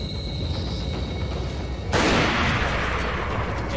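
A gunshot in Resident Evil 4 with the Life in Hell mod cuts into a low rumbling in-game ambience and leaves a sustained roaring wash behind it.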